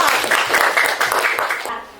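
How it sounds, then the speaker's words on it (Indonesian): A class of students applauds a group of classmates after a presentation in a school lesson, a dense steady patter of many hands under a little background chatter that fades out near the end. "tepuk tangan untuk kelompok 1 ya"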